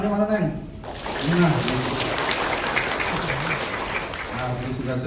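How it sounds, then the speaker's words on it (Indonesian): Audience hands clapping at a honey product launch event, a steady broadband patter of applause under a presenter's voice, with talk before and after. "Coba tepuk tangannya mana"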